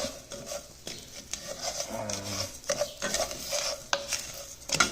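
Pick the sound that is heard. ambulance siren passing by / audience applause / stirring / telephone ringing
stirring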